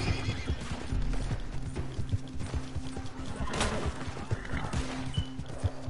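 A horse in the video game Red Dead Redemption 2 whinnies loudly around the middle, amid clip-clopping hooves and mechanical clicks from the game's soundscape.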